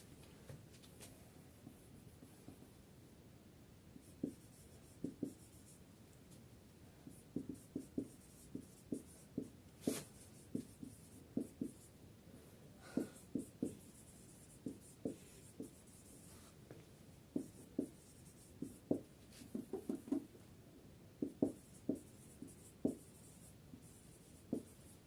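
Pen writing a sentence by hand on paper or a board during an English grammar lesson, a steady run of light scratchy strokes and taps, close and alone with no talk.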